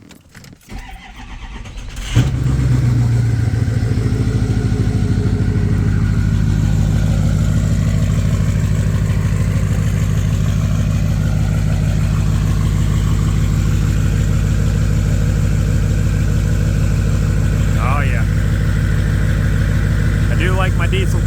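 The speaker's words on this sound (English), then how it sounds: "Let's give it a cold start." Cold start of a straight-piped 2005 6.0L diesel pickup truck with the exhaust removed from the turbo back: a brief crank and catch, then a loud, steady, close rumbling idle that holds for the rest of the clip.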